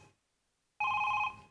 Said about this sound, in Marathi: किडनॅपरचा फोन आहे